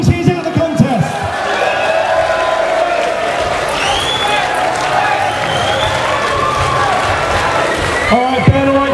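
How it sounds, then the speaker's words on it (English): Audience applause and cheering from a crowd at a chilli eating contest in the Silverstone Woodlands during the 2022 F1 weekend, a sustained wash of clapping and whoops lasting several seconds with brief voices at the start and end. "please give Jake a round of applause"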